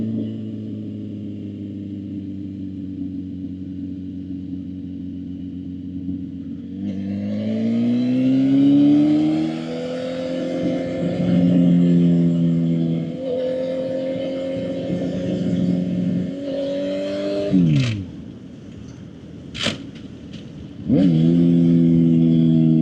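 A sport bike engine revs up through the gears while riding, rising in pitch, dropping at each shift and climbing again, loud and close, after a steadier idle-like drone at the start.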